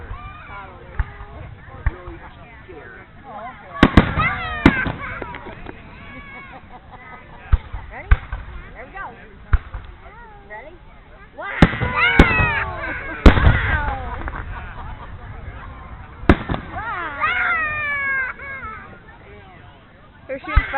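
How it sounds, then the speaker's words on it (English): Fireworks bursting at an outdoor display in St. Marys, Pennsylvania, with several loud sharp booms and crackling clusters spaced through the scene, mixed with nearby crowd chatter and people talking throughout. "They're shooting fireworks stuff over there."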